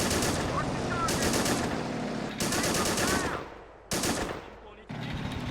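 Loud, sustained machine gun bursts in the Men of War: Assault Squad battle at Saipan, with several volleys overlapping into dense fusillades, separated by short gaps in the firing.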